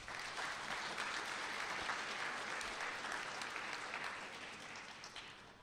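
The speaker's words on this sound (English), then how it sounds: "That needs a round of applause" Audience applauding steadily at a student leadership awards ceremony, a dense sustained clapping from a crowd that fades slightly toward the end, with no talking over it.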